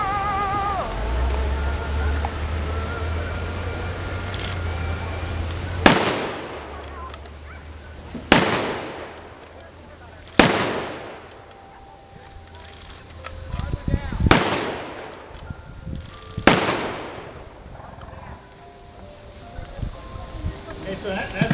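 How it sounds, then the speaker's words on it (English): Five sharp, loud K98 rifle shots ring out one at a time with uneven gaps at an outdoor German weapons demonstration at a D-Day reenactment in Ohio, each followed by a rolling echo over low background murmur. "Okay, so that's the K98."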